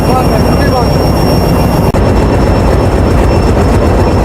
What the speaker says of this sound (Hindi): जो लोकोमोटिव हमारी ट्रेन को अभी लीड करने जा रहा है वो है जी HBU 8034